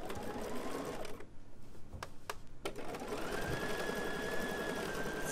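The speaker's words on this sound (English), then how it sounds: "And now I'm going to sew." Bernina sewing machine fitted with foot 3C stitching elastic, a steady close motor whir that pauses briefly midway with a few clicks, then resumes its continuous hum.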